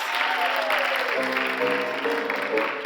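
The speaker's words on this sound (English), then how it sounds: "The audience applauds wildly, even though she hasn't done anything yet." Theatre audience at a stage musical applauds as a performer appears at the top of a staircase, a steady wash of clapping heard alongside orchestral music with sliding melodic notes.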